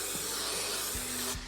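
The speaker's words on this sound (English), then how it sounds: "I'm using this 3M Super 77. I love this stuff. And you're just gonna spray that down on your sill." 3M Super 77 spray adhesive hisses steadily from an aerosol can onto a window sill during a tiny home build, one continuous close spray that cuts off abruptly near the end.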